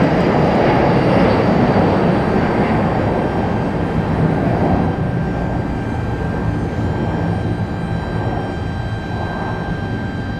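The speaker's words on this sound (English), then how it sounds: "Back-to-back A220 arrivals here. One from Delta, one from JetBlue." An Airbus A220 airliner arriving at Raleigh Durham airport gives a loud, broad jet roar close by that fades a little over the stretch.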